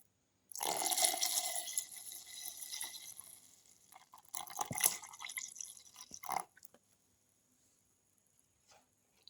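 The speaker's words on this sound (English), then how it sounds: "Pour in the milk." Milk pours steadily into a blender for several seconds with a splashy, hissing stream that briefly eases, surges again, then stops.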